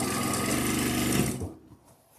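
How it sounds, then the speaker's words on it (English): Bernina sewing machine quilting fabric, a close rapid mechanical chatter running for about one and a half seconds before winding down into a few soft clicks. "I am going to be quilting this on my Bernina"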